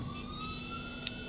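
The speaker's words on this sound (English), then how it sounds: "Oh, there's the police cars." Police car sirens wail faintly in the distance in the video game The Operator, a thin steady tone drifting under a quiet ambient hum with no one speaking.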